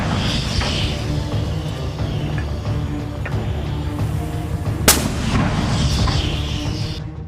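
Artillery and gunfire from a Gaza war attack on a gathering of Israeli soldiers and vehicles form a dense, continuous rumbling barrage with one sharp crack midway; no speech.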